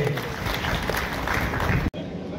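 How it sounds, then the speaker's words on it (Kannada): Teachers at a felicitation ceremony clapping together, a dense, steady burst of applause that fills the room for about two seconds before cutting off abruptly. "ಎಲ್ಲ ಶಿಕ್ಷಕರು ಒಂದು ಚಪ್ಪಾಳೆ ಹೊಡೆದು"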